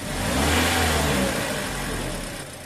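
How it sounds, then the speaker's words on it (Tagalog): A 2025 Toyota Vios engine revs gently as the accelerator is eased in, a close, smooth rising drone that holds steady and then tapers off slightly, with no voices. "Kita nyo, matining naman itong andar ng makina. Dahan-dahan accelerator, dahan-dahan ha."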